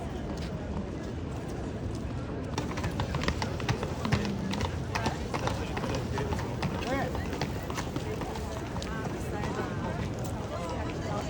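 Horse hooves clip-clop in a steady, brisk rhythm on a Krakow street, close and clear amid crowd babble and people talking nearby.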